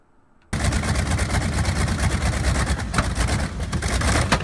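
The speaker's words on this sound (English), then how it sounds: "that's a backwards mounted B-29 engine" A backwards-mounted B-29 aircraft engine roars loud and close after a brief quiet start, a dense, continuous rumbling drone with rough pulsing texture holding steady to the end.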